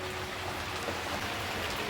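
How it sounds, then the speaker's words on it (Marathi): Heavy monsoon rain pours steadily in the Konkan countryside near Chiplun, Ratnagiri, a dense, loud and unbroken hiss with no voices. "नंतर बघा कसा जबरदस्त पाऊस पडते"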